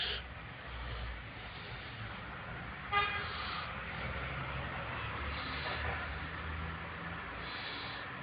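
A single short car horn toot rings out over steady, hissing traffic and engine rumble.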